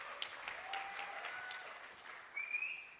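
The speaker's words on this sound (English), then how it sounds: "Make sure that at least one person claps for each one." A small audience at a software feature launch watch party claps. The applause is faint and scattered over a few seconds, with a brief livelier burst near the end.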